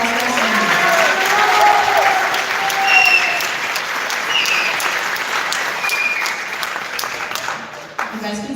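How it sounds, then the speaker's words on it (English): Audience applause at a high school spring band concert, steady clapping from a large crowd that swells and then tapers, with some voices faintly audible under it. "And a round of applause for them."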